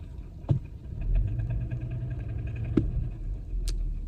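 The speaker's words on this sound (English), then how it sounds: "right now we're going to see what's up with this car because it's making a knocking noise" A car engine with a fault idles close by, making a low, steady rumble broken by a few sharp ticks and knocks, and no one speaks.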